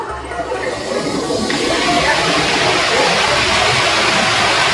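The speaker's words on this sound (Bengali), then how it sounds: "ঝর্ণার শব্দে স্পষ্ট কথা বোঝা যাইতেছে না" A waterfall at Jaflong in Sylhet roars nearby, a loud, unbroken rushing wash of water that fills the whole stretch.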